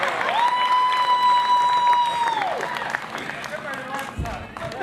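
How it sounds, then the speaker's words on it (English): Guests at an MBA corporate dinner give a round of applause, loud sustained clapping and cheering with a steady high whistle-like tone over it, fading toward the end. "give me another round of applause."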